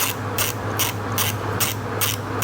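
A hand ratchet tightens a bolt on a Kia engine short block, its pawl clicking in six or seven evenly spaced bursts of rapid, close, loud clicks over a steady low hum.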